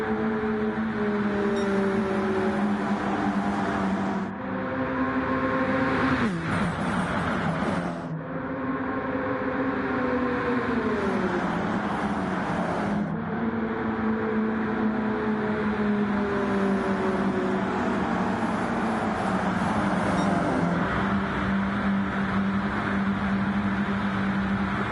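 Race cars lap at the Daytona 250, engines droning loudly at high pitch with several rising and falling passes as vehicles sweep by, a continuous roar with brief dips between passes.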